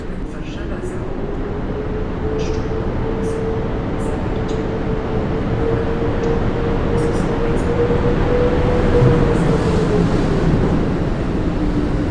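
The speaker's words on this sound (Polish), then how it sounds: "W końcu przyszła kolej na pociąg Intercity Sienkiewicz." An Intercity train arrives at Warszawa Centralna station, a loud sustained rumble and rolling hum with a steady tonal whine held across the platform, plus a few faint clicks, continuous and close throughout.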